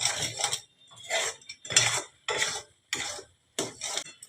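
A spoon scrapes and stirs moong puli filling as it fries in a pan, in six evenly spaced rasping strokes with short pauses between them. No one speaks.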